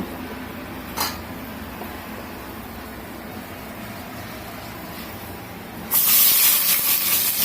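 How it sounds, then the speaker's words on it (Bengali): A quiet, steady sizzle from a hot pan of oil with cloves for pulao jumps into a loud, crackling hiss as onions go in near the end, with no one talking. "এখন আমি এখানে পেঁয়াজ দিয়ে দিব।"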